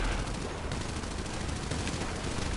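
Sustained machine gun fire in Grand Theft Auto, a dense, continuous rattle of rapid shots at steady loudness throughout, with no pauses and no talking over it.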